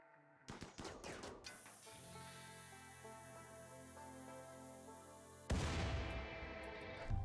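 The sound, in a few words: gunfire at a mechanoid automortar in the video game RimWorld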